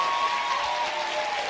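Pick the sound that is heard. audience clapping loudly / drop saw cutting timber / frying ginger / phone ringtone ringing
audience clapping loudly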